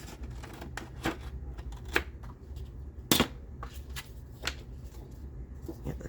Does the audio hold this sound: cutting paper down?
yes